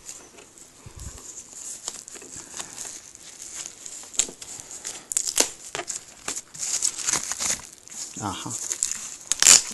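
Plastic wrapping crinkles and tears as it is pulled off an Xbox One Titanfall bundle box, close and irregular, with brief bursts of rustling and a short spoken exclamation.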